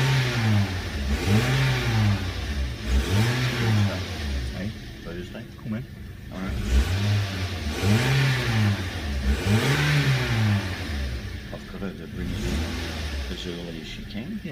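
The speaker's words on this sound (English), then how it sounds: "I'm just going to do a couple of snap throttles" A Toyota Echo engine is blipped through repeated snap-throttle revs, each rising and falling in pitch, roughly five bursts over steady idle, close up, with people talking over it.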